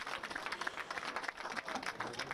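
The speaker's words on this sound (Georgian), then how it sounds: "ტაშით გააცილებენ." Spectators at a rugby match in Batumi applaud an injured player leaving the field, a faint, distant patter of crowd clapping that continues steadily.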